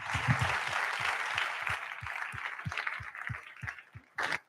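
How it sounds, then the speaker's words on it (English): An indoor audience at a casual data meetup applauds the event organizer, giving a steady round of clapping that fades toward the end before a last brief burst. "we have the responsibility to give him a huge round of applause for gathering you"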